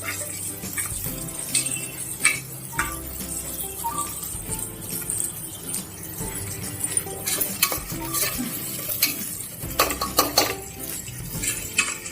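Chicken haleem ingredients with onion pieces being stirred and mixed in a pot, a spoon scraping and clinking against metal in uneven strokes over a soft sizzle, close and moderately loud.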